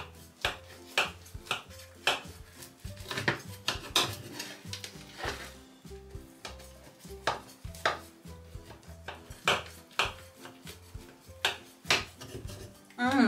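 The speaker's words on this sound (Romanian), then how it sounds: "haideți să tăiem, cum v-am zis, plăcințica, să vedem cum este și în interior" A knife cuts through a freshly baked zucchini, cheese and cașcaval pie in a home kitchen, giving a series of crisp crunching and tapping strokes with scraping against the pan, fairly close, with occasional quiet talk between cuts.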